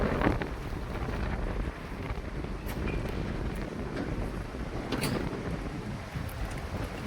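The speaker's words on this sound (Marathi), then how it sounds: "आता एवढं वारं सुटलो की वारो मागे ढकलून देतात." A sudden strong storm wind gusts around Kharepatan in Sindhudurg, a steady loud roar of wind buffeting the microphone that swells and eases in gusts throughout, with no voices.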